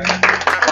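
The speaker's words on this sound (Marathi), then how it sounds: "सरांसाठी एकदा जोरदार टाळ्या." Audience at a live knowledge-quiz event breaks into applause, a short dense burst of many hands clapping close by, rising in quick overlapping waves.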